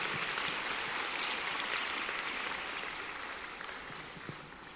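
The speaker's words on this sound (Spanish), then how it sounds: "Dale un aplauso al Señor, ponte de pie." Church congregation applauding during a Saturday night service, a dense wash of many hands clapping at steady volume that gradually fades toward the end, with no voices standing out.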